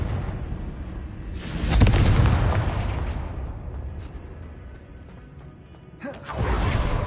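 A Confringo fire-blast spell in Hogwarts Legacy erupts as a loud, sustained explosive burst over steady game ambience, then fades before a second, heavier rumble rises near the end.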